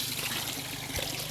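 Water streams steadily from a pipe in a continuous, fairly loud trickling rush, with no talking.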